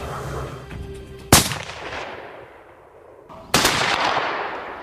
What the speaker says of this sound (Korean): 적막감이 감도는 숲속에서 갑자기 총성이 울립니다